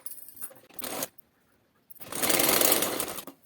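A sewing machine runs in two short bursts of stitching along a blouse belt, with a close mechanical whir and a quiet pause between the runs.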